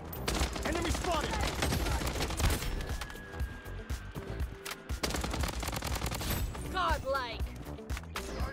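Dense, continuous gunfire from the Bloodstrike shooter game, rapid bursts running almost nonstop under game music and in-game callouts.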